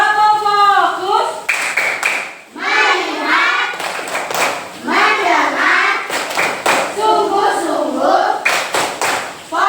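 A classroom of children does a rhythmic focus-clapping routine: sharp, loud clusters of claps punctuate chanted phrases spoken in unison, repeating several times.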